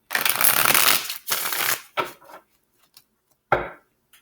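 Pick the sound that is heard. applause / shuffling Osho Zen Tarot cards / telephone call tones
shuffling Osho Zen Tarot cards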